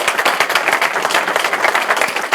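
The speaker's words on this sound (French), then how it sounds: "il faut l'applaudir très fort." Loud, close clapping from a group, energetic and sustained, with individual hand claps audible in the rapid patter.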